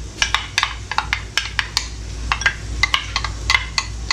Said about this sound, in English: So I'm going to add in the onions.